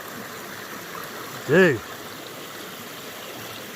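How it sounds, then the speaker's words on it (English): Small waterfalls and a stream flow through a secluded forest, giving a steady, even wash of rushing water throughout, with a man's brief spoken word cutting in near the middle. "making these perfect little waterfalls like right there before me"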